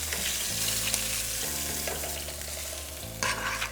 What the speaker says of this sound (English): we're going to sear the side for another 3 minutes